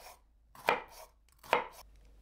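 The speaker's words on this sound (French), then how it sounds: "Je coupe en morceaux un concombre et un concombre amer." A knife chops cucumber and bitter melon into pieces on a board, two crisp, distinct strokes about a second apart, close and clear with no voices.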